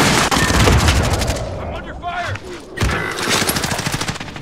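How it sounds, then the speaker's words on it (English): Loud, dense video game gunfire rattles in rapid automatic bursts, pausing briefly before resuming with steady fast shots, close and harsh with a voice talking underneath. "I'm under fire."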